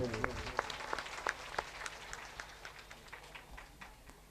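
Faint scattered handclaps from an audience applauding donors at a Bhagavat Katha religious gathering, a few sharp claps early then softer irregular clapping, quiet and distant.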